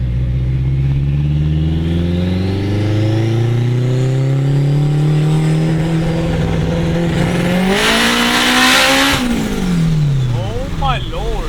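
An 800-horsepower turbocharged all-wheel-drive Acura RSX Type-S accelerates hard under full boost, its engine note climbing steadily and loud through the gears, then a brief roar before the revs drop and rise again.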